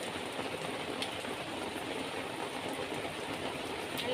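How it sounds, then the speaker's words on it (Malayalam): Heavy rain pours down in a dense, unbroken hiss that stays steady and loud throughout, with no voices or distinct drops standing out. "ഇപ്പോൾ മഴ നന്നായിട്ട് പെയ്യുന്നുണ്ട്"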